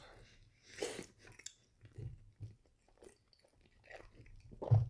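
Someone chews and bites into a strawberry cheesecake donut, with several soft, close crunching bites spread unevenly through otherwise quiet moments.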